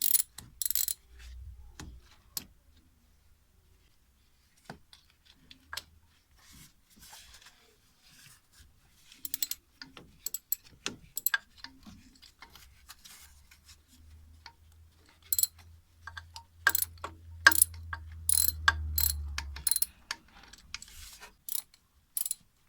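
A 13 mm ratchet wrench works bolts loose on the gearbox of a VW Golf 6 1.6 TDI, with sparse clicking ratchet bursts, metallic taps and a low rumbling stretch, mostly quiet between strokes.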